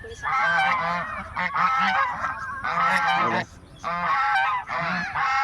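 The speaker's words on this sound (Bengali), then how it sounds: "ওই দেখো বাবা হাঁস হাঁস দেখো রাজহাঁস" Domestic geese in a village honk loudly and close by, in repeated bursts of nasal calls separated by short gaps.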